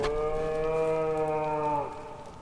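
A goat bleats once in a horror video game, a long harmonic call held steady for nearly two seconds before it trails off, loud and alone with no talk over it.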